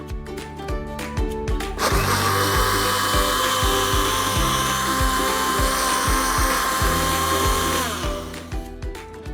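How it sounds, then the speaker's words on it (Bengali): Electric blender whipping salt lassi from yogurt, loud close motor roar that rises sharply, holds steady for about six seconds and then winds down, with some rattling before it starts. "ব্লেন্ড করে নিচ্ছি।"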